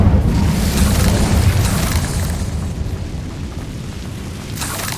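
A fire spell, Incendio, is cast in the Hogwarts Legacy video game, giving a loud, sustained low rumbling burst of flame that fades slowly over several seconds with no talk.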